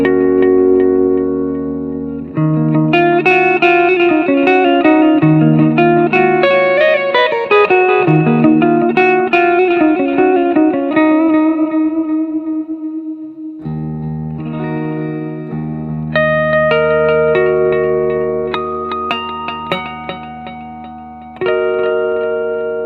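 A clean electric guitar through a Positive Grid Spark amp on the Lush preset rings out sustained chords and arpeggiated notes, washed in reverb and delay, with a brief pause midway before more chiming chords.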